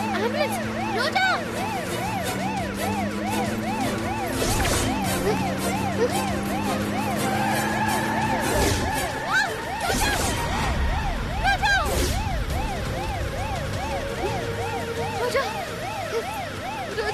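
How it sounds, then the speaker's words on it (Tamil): An ambulance siren wails loudly and continuously in repeated rising and falling sweeps, with crashing noises and people calling out over the top. "ஆம்புலன்ஸ்"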